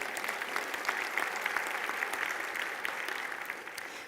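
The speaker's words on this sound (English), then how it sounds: "You all can clap." Audience at a healthcare speaker's talk by a breast cancer survivor applauding, a steady, fairly faint wash of many hands clapping that holds evenly for the whole stretch with no voices over it.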